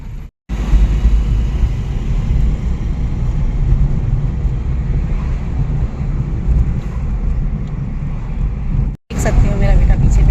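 A car drives along a road with a steady, loud low rumble of engine and road noise filling the cabin, briefly cutting out twice.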